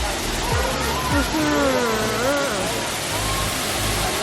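A waterfall pours with a constant broad hiss of rushing water, close and loud, while a voice talks over it.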